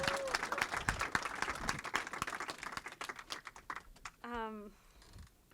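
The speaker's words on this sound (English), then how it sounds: "Another round of applause for Ohan." An audience at a film festival screening program gives a round of applause, dense overlapping claps fading out before a voice speaks briefly at the end.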